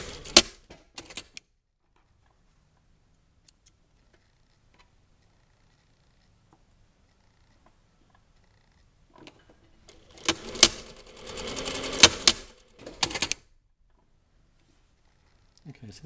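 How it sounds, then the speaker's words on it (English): A sewing machine runs a short 6mm seam on a tailored jacket chest pocket, a steady close whirring burst of about three seconds between quiet pauses and brief handling noises. "switch the machine on, and then 6mm seam"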